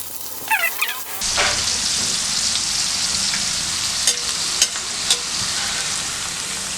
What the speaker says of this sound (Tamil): இப்போ வெண்டைக்காயை எடுத்து பொரிச்சிடலாம்